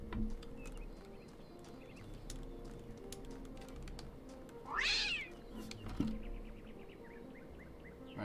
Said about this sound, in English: I guess that cat doesn't like us still.